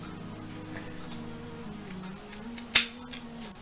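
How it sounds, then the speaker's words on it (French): Pinking scissors snip once into fabric corners of a sewn makeup pouch, giving one sharp, close crunching cut after faint handling sounds. "moi je vais les cranter à l'aide d'un ciseau cranteur"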